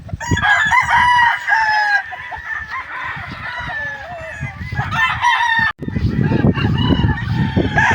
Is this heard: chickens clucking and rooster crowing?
yes